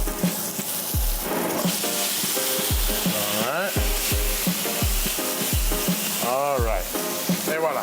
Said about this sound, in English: Now we can start with the steak.